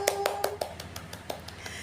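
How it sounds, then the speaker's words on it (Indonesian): Children in an elementary school classroom clapping hands in a quick burst of separate claps, fairly faint, fading out toward the end. "Tepuk tangan dong"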